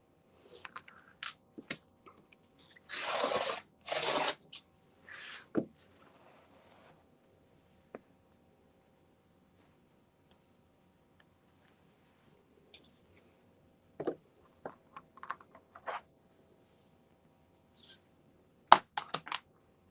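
A sharp blade cutting quilt fabric, a brief burst of rough slicing near the start followed by scattered faint snips and clicks in a quiet room, with no talk.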